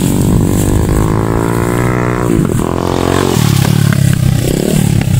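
A motorcycle setting off after sacks are picked up: a loud, close engine revving with rising pitch, a brief dip, then pulling away again with clattering and scraping mixed in.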